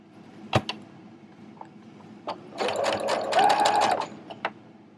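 A sewing machine stitches down fabric for a medieval-style dress in short bursts, a brief run then a steady whirring stretch, close and fairly loud with a few clicks around it.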